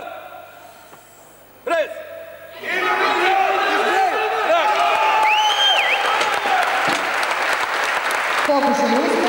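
Audience applauding and cheering a new state bench press record of 200 kg at a powerlifting event, loud crowd clapping swelling after a brief earlier burst and continuing steadily with voices mixed in.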